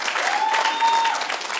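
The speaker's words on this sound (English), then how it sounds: "Clap if you're 50 and up." A stand-up comedy crowd claps in a brief, dense burst of applause, moderately loud and steady throughout.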